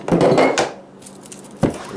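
A knife chops an onion on a board, producing a few close, sharp knocks and scrapes separated by a short quiet pause, with no speech.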